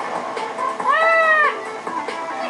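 Cats meow in the PlayStation All-Stars Battle Royale fighting game, a single clear rising-and-falling meow lasting about half a second over a busy game background.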